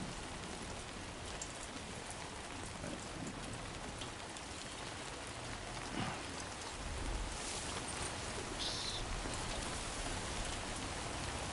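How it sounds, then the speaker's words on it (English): Steady rain falls in the video game Death Stranding 2, a continuous broadband hiss of drops pattering on surfaces that stays fairly even throughout, with a slight swell in the closing seconds. "No end to this rain."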